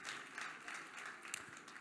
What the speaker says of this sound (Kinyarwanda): Nimubakomera amashyi menshi.